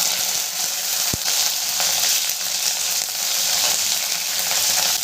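Cut cauliflower frying in a pan with tempered five-spice, giving a loud, steady, continuous sizzle and hiss with one brief knock near the start.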